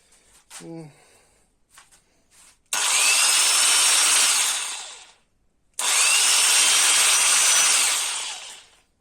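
A high-pitched Makita electric power tool whirs up twice in loud sustained bursts, spinning down between them, after a few faint clicks and a brief voice.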